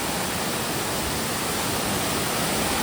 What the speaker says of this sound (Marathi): हिरव्यागार वनराईतून हा वाहणारा सुंदर असा सोमतीर्थ धबधबा